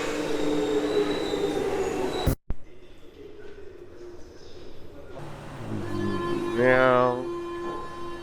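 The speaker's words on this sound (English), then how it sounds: "Waiting for this train." A metro train arrives at a Paris station with a rising rumble and a loud squeal of wheels or brakes, after an abrupt cut from busy station noise.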